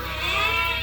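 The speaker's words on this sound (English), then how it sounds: "today this barn is deafening. This is the weaned ewes" Weaned ewes packed in a barn, a loud, continuous chorus of overlapping bleats filling the space without a break.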